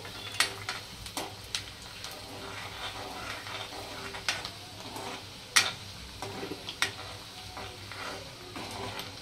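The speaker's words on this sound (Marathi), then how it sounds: "कांदा चांगला परतून घ्यायचा आहे तेलात" Chopped onion fries in oil while a spoon stirs it, a steady close sizzle broken by sharp scraping clicks of the utensil against the pan at uneven intervals.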